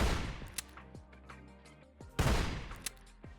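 Snub-nosed break-action shotgun revolver from a Fallout 4 mod, fired in game: two loud, sharp blasts about two seconds apart, each with a rumbling tail, plus faint mechanical clicks between them.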